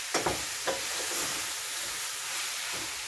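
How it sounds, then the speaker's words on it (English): Seasoning for Jamaican-style curry conch stew sizzles steadily in hot oil, with a few sharp stirring scrapes near the start and then an even, close frying hiss. "seasoning that was frying up in the oil"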